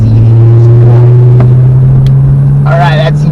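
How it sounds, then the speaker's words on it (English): A 2012 Dodge Challenger SXT accelerating, its engine a steady, loud low drone heard from inside the car while someone talks throughout. "it really picks up in a really quick way for being such a heavy car"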